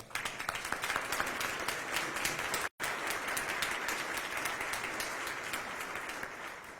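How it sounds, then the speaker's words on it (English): A crowd applauds steadily at a college presidential inauguration ceremony, with dense clapping that briefly cuts out for a moment before resuming just as full. "Round of applause."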